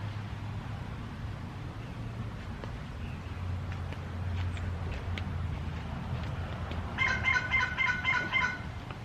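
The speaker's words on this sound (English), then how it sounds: "I hear it. There must be a bird nest up there." Gobbling turkey calls ring out several times over a low steady background hum, loudest in a dense burst near the end.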